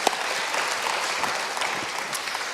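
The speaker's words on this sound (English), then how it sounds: "Let's give Winnie a round of applause" An audience at a church talk on racial justice claps steadily, a dense wash of applause close by that holds evenly throughout with no voices.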